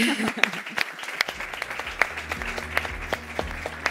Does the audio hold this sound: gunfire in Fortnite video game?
no